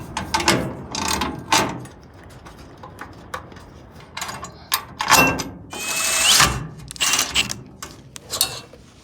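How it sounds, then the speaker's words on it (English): Close, irregular bursts of ratcheting and metallic clicks as bolts are tightened on a bracket mounted to the metal of a 1955 Chevy truck's rear suspension, with short pauses between turns. "mount the bracket onto it with just the top 2 bolts"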